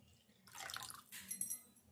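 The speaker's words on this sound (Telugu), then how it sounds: "కొంచెం వాటర్ వేసుకుందాము." Water poured into a tangy tamarind-based taro (colocasia) curry in a pot makes a short, close splashing pour that follows a brief quiet moment, with no talking.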